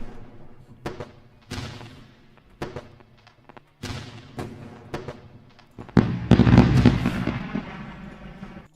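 Fireworks sound effect played over a live futures day-trading stream: a string of sharp booming bursts spaced about a second apart, ending in a louder, dense crackling barrage.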